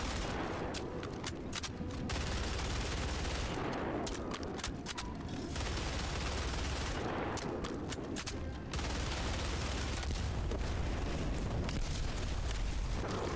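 A BR-14 Adjudicator marksman rifle fires at a tank in a video game, over a dense, loud, continuous din of gunfire and explosions with recurring rapid bursts throughout.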